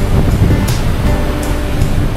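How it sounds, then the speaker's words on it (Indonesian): Ocean waves rushing and churning against the hull of a large passenger ship, heard from the side of deck 5 as a loud, continuous wash with wind noise buffeting the microphone. "Meskipun ombaknya bergelombang, terlihat ada buih-buih putih dan ombaknya ini mengarah ke sini, artinya kita lagi melawan ombak ini"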